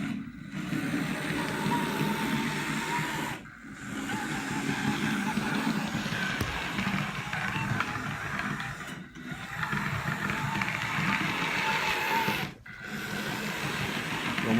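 A steady mechanical whirring hum of a small motor running continuously, with a few brief dips, close by and alone: a Life-Like Proto 2000 model train locomotive running on track after a cracked gear was replaced.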